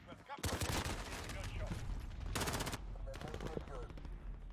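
Rapid automatic gunfire rattles in dense bursts during an online multiplayer shooter match, loud and continuous with brief gaps between volleys.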